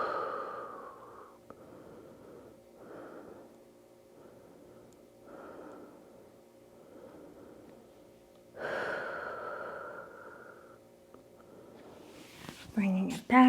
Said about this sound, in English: Deep inhales, long exhales.